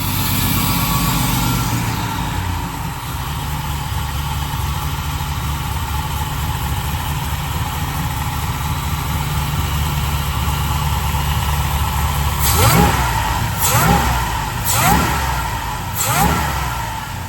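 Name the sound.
supercharged LS swap truck engine starting, idling and revving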